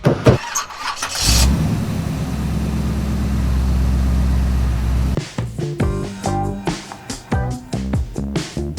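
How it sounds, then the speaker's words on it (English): A 2006 Toyota Corolla starts with a short crank, settles into a steady idle for several seconds, then pulls away as the engine revs up and down through gear changes, loud and close. "I hop into my old 2006 Toyota Corolla and it's time to hit the road."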